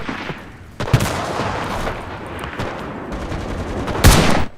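Gunfire from the WWII shooter Enlisted, played on console: sustained rattling bursts of shots with loud close reports near the start and end, layered over a constant roar of battle.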